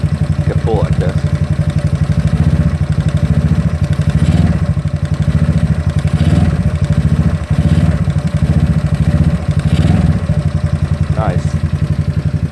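A GY6 scooter engine runs steadily with a low, continuous drone, rising in repeated surges as it is revved several times, close and loud throughout.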